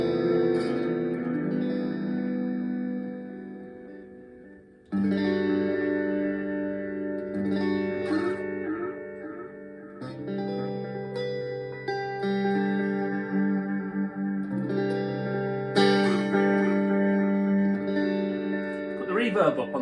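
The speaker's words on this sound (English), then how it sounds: "put the echo up a little bit and the feedback up a touch" Electric guitar played through a Donner Yellow Fall delay pedal into a Blackstar amp, with sustained chords trailing into echo repeats and a washy tail. The guitar plays continuously at moderate level, with fresh strums around 5, 10 and 16 seconds.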